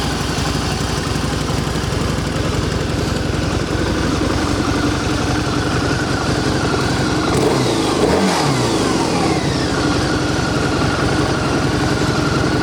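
Harley-Davidson Night Rod Special motorcycle with factory exhaust, 660 miles, idling with a steady, fairly quiet low rumble, then a brief rev swells and falls back near the middle, close by.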